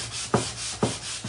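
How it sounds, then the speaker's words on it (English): Two slow, rhythmic scrubbing strokes of sandpaper rubbed by hand over textured wood, close and fairly soft, with a third stroke just beginning. "So I've started kind of giving it a bit of a sand"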